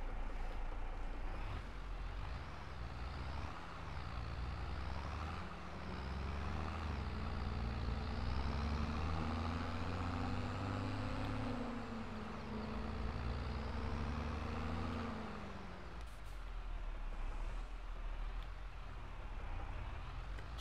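Deutz Agrostar 4.61–4.71 series tractor engine in Farming Simulator 22, a steady low diesel rumble with layered harmonics running continuously and fairly quiet, dipping briefly near the end.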